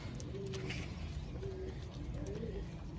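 Soft, low pigeon cooing repeats a few times, faint beneath steady background noise.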